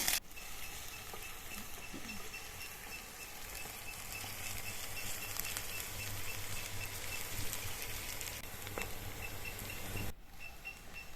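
Onion and green chili sautéing in oil in a pan, a steady continuous sizzle with light stirring scrapes, close and alone for about ten seconds before it drops away.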